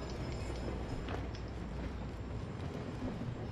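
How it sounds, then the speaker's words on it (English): A train in the Call of Duty Modern Warfare video game rumbles steadily with a dense, low mechanical roar and faint clattering, moderately quiet and continuous without speech. "Why is the train getting faster?"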